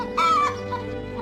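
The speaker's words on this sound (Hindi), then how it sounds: "एक खेत में रहती थी मुर्गी अपने 4 चूजों के साथ।" A hen on a farm gives a short, close clucking call that rises and falls, then trails off over a quiet background.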